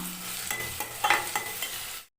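Onions sauté in a pan for cauliflower gravy, with a steady close sizzle and several distinct scraping stirs of a spoon, and no voices.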